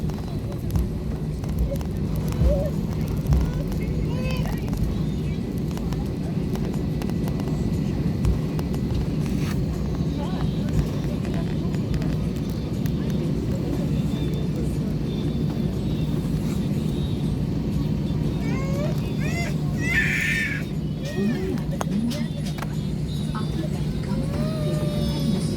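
SriLankan Airlines airliner rolling off the runway at low speed toward the taxiway, a steady loud low engine rumble and cabin roar throughout, with a brief higher whine partway through.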